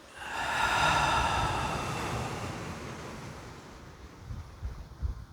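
Ocean waves washing ashore, a broad rushing roar that swells early, then slowly ebbs and fades with a few smaller splashes near the end.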